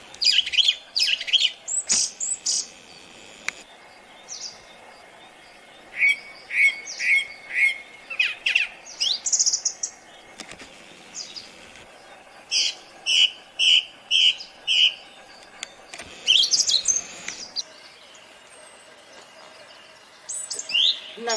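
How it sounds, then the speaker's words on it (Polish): Several birds chirp and call in a garden on a cloudy May day, bursts of short repeated tweets and trills coming and going, fairly close and clear, with no talking. "No niesamowite te ptaki."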